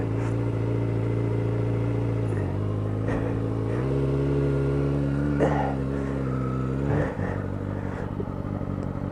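A Kawasaki ZX6R sport bike ridden slowly over wet ground, its engine a steady low, rumbling idle-to-low-rev drone with small gear-change dips and shifts in pitch, close and continuous.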